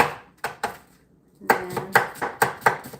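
A knife bangs on a cutting board while onion is chopped, giving a handful of sharp, irregular knocks with short gaps, close up and alone.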